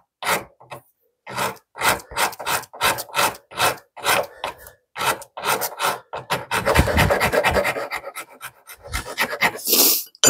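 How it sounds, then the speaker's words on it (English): A file rasps across a wooden dovetail saw handle to bevel and round it, close, separate short strokes in an uneven rhythm, then a denser run of quicker scraping toward the end. "I'm going to take the file and get the rest of this. Bevel and round as I go."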